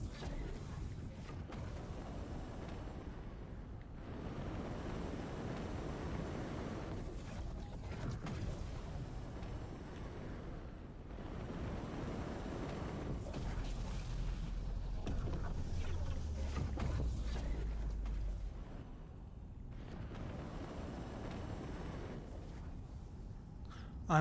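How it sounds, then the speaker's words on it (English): Origin M80 spaceship engine in Star Citizen, a steady broadband rumbling hum with a whooshing, wind-like texture that swells and eases in slow waves, loud and continuous, with no talking. "ASMR you some engine noises real quick."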